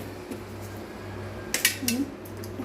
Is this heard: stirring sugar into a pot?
yes